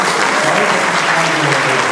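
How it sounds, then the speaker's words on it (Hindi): Loud, dense applause from an audience in an auditorium at a Tally and GST program in Hazaribagh, a steady roar of many hands clapping close by. "अमित के लिए एक जोरदार ताली हो जाए"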